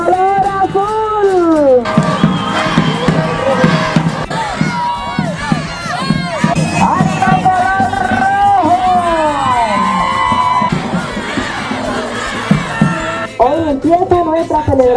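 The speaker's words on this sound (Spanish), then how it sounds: "vamos a recibir con un fuerte aplauso al equipo amarillo" A school anniversary-week assembly crowd cheering and shouting loudly for the yellow team, an excited mix of children's whoops and voices over scattered clapping, continuous and close throughout.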